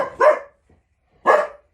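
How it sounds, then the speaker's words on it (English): Dog barking indoors, two loud, sharp barks about a second apart with silence between them. "there's no reason to barky bark"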